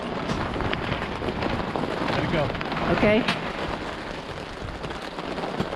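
Rain falls steadily during a storm at a motorcycle campsite, a dense continuous patter with wind, while people briefly speak over it.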